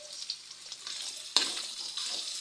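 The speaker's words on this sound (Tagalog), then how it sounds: "Igisa ko lang siya." Baguio beans sauté in a hot pan with a soft, steady sizzle and light stirring, marked by one sharp crackling burst about halfway through.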